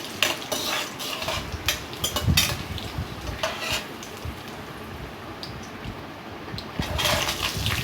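Small onions sautéing in oil in a pan, a quiet background sizzle with repeated clinking scrapes of a utensil stirring against the metal.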